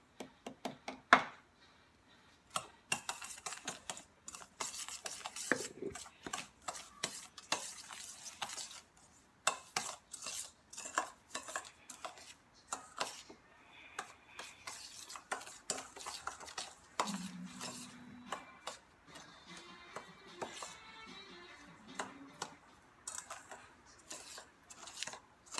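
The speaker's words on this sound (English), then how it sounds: "the next step is mix it in for 30 seconds" Brownie batter stirred in a bowl at home, a steady series of scraping, clinking utensil strokes against the bowl with irregular rhythm, close-miked and moderately quiet, with no talk.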